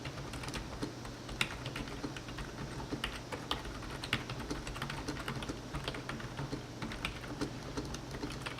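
Rosewill RKM 600, a cheap non-mechanical keyboard, being typed on steadily at close range, with dense, fast soft key clicks and occasional louder taps throughout, no voices.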